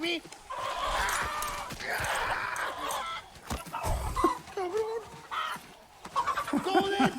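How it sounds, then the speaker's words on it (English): Chicken clucking in the video game Far Cry 6, a run of short fowl calls mixed in with in-game dialogue and other game sounds, with people talking over much of it. "Look at that fucking chicken."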